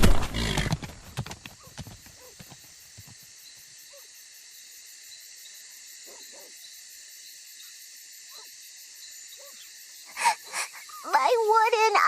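Horses in the video game Rise of Kingdoms gallop with rapid hoofbeats and then neigh and whinny loudly near the end, over game music and a brief shout.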